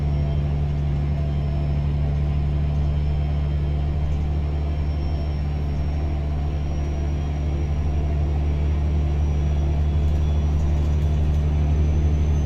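Pinga 389 truck engine in American Truck Simulator, a steady deep diesel drone heard from inside the cab, loud and continuous with no change in pitch and no speech.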